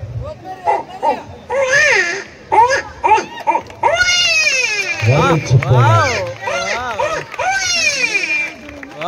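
A stage magician at a village show mimics a crying baby with his voice, giving a run of short, rising and falling wails that build into longer sobbing cries, loud and close.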